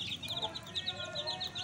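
Hens cluck repeatedly in a short, steady series of high calls, with a rooster nearby and other fowl in the background, while the chickens peck at chopped cucumber.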